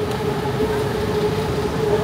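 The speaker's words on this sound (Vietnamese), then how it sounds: "tàu điện đang chạy phía trên" An elevated electric train in Bangkok runs overhead, giving a steady, continuous rumble with a faint humming tone throughout and no talking.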